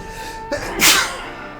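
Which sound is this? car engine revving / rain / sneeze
sneeze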